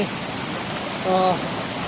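Heavy rain pours at night beside a rising, swollen stream, a constant close hiss and rush of water, with a brief faint voice-like murmur partway through.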